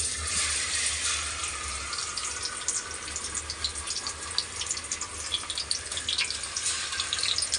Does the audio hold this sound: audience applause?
no